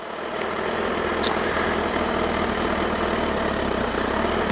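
A motorcycle engine idles with a steady low rumble as the clutch is slowly eased out and pulled back in during a beginner riding lesson, a constant close drone without speech.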